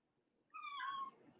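A cat gives a single short, faint meow nearby in a quiet room, rising then falling, with a soft click just before.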